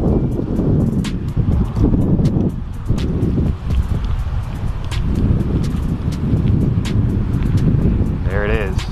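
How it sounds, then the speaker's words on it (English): Heavy wind buffets the microphone in loud, rumbling gusts, mostly covering a voice talking throughout. "I'm sorry if it's windy out"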